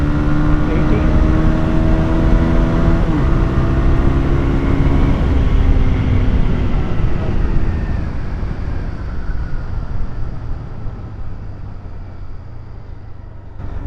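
A Bajaj Pulsar 180 motorcycle accelerates hard through its gears on a top speed run. The loud engine whine climbs in pitch and drops at each shift, heard close up with rushing wind noise before easing off.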